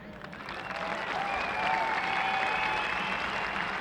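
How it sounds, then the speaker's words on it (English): A crowd at the final hole of a women's disc golf European Championship claps steadily in sustained applause. Cheers and whistles rise over it, and a commentator can be heard faintly underneath. "The crowd behind her clapping and cheering"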